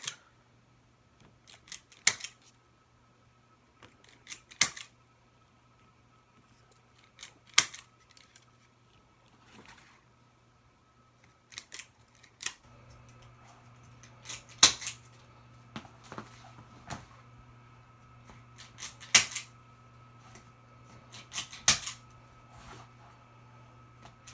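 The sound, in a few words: zip tie gun tightening zip ties on flower wreath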